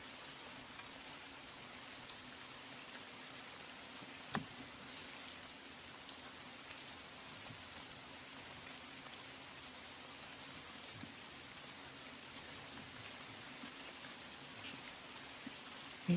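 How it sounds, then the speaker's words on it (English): Steady, soft rain falls continuously, a faint even patter with one or two slightly louder drops and no voices. "It's raining, man."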